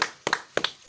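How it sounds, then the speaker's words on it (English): A few people giving a short burst of scattered claps, in three quick sharp clusters close by. "Clap for him."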